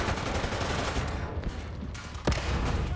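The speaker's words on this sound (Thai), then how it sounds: "ยิงปืนครับ" In the War Thunder game, the Lorraine 155 Mle.50 155 mm self-propelled gun fires amid constant loud battle noise, with one sharp, heavy blast standing out near the end.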